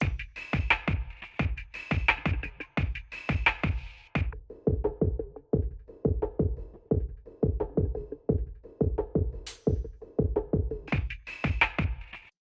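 A rhythmic electronic music loop with a steady beat whose tone abruptly switches between bright, full and muffled, filtered passages several times.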